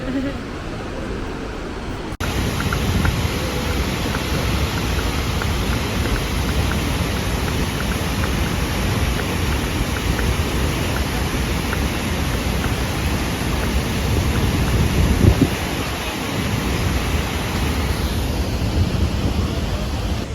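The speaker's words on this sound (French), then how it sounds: "Là, on va se rapprocher en gros de la cascade." A waterfall roars steadily near a boat on a Marrakech trip, a dense, even wash of rushing water that stays loud throughout, with a faint high whine above it.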